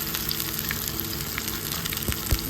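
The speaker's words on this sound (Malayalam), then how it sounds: "ഇനി നമുക്കതിനകത്തേക്ക് ഒരു 8 ഉള്ളി ചെറിയ ഉള്ളി ചെറുതായിട്ട് അരിഞ്ഞത് ചേർക്കുന്നുണ്ട്." Eight small shallots, finely chopped, sizzle in hot oil with mustard seeds for a Kerala-style moru curry, a loud, steady frying hiss broken by a few sharp pops and crackles.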